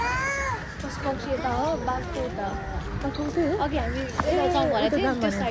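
A cat at a zoo meows repeatedly in drawn-out, wavering cries close by, while people talk over and around the calls.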